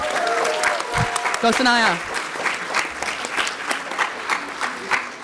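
An audience applauds at a film festival awards ceremony, sustained clapping from a crowd throughout, with a voice briefly cheering a name over it near the start.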